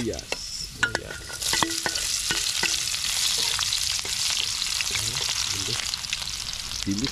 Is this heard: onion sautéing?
yes